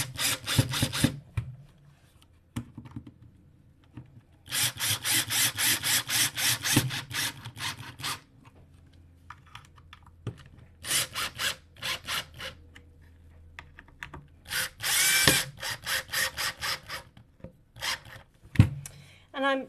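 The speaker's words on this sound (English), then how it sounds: "I'm pulsing the Dremel screwdriver because I don't want to just drive these screws in" A Dremel screwdriver drives screws into a picture frame in short pulses, with repeated buzzing whirs in bursts separated by quiet gaps, close and fairly loud.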